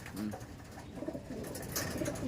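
Pigeons coo softly in a low, murmuring flutter against a faint outdoor background, with no one speaking.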